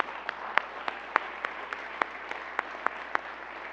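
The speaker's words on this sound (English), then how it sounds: "a round of applause for Billy and his team for putting that together." Applause for Billy and his team at a leadership talk, thin and spaced, with a dozen sharp distinct claps standing out in a steady rhythm over a faint wash, as if from a small audience.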